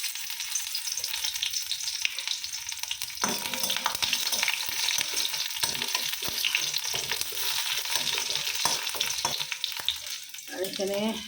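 Garlic frying in oil in a wok gives a loud, steady sizzle with crackling, interrupted by stirring and scraping strokes throughout; no talking.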